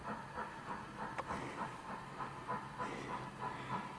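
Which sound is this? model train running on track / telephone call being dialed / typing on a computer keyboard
model train running on track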